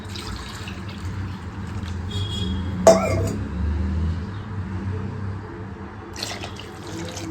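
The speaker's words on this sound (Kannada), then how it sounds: "ನಾನು ಇಲ್ಲೊಂದು ಎರಡು ಲೀಟ್ರಷ್ಟು ನೀರು ಹಾಕ್ಕೊಂಡಿದ್ದೀನಿ" Water pours steadily into a metal pressure cooker, about two litres for soup, with a short clank partway through and a low hum underneath.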